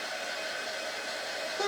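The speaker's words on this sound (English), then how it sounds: "I started using this dryer here just because it does dry a little faster" Dryer running steadily while drying carrots, a constant close, loud whooshing blow of air with no pauses.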